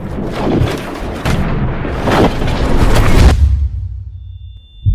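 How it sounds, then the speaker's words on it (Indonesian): Loud bursts of gunfire and booming blasts in a film scene crowd together in a chaotic barrage, then fade into a low rumble. "tiba-tiba terdengar suara tembakan"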